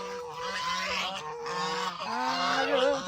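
A goose honks loudly and close by in a long run of harsh, overlapping calls, agitated and seemingly ready to attack, outdoors among lychee trees.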